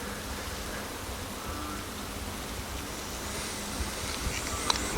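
Steady soft rain hiss plays as a quiet, even background bed for spoken paranormal sleep stories, with a few faint drop ticks near the end and no voice over it.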